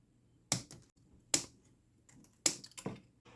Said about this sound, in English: I'm just going to take my pair of scissors and go along and cut these ends off